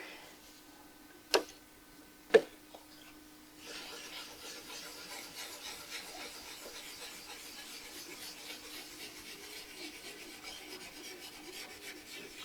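Steel wool rubs finish onto a 1939 wooden radio cabinet, heard as two sharp knocks followed by a steady, quiet rasping scrub that continues close and alone.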